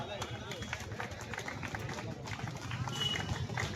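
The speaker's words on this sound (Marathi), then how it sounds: "सर्वांना विनंती आहे सर्वांनी जोरात टाळ्या वाजवा" A crowd at an outdoor Aam Aadmi Party political rally in Solapur claps continuously, a dense, steady patter of many hands under a loud voice over the speakers.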